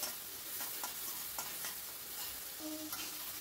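Tomatoes with turmeric being stirred as they fry in a pan over a high gas flame, a steady soft sizzle broken by repeated scrapes and taps of the spoon, close and faint.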